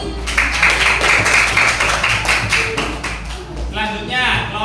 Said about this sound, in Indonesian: Tepuk tangan buat kelompok norma hukum